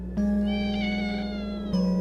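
Cats meow in a video game, two drawn-out tonal meows, the first long and wavering, the second starting near the end, close and clear with no talking.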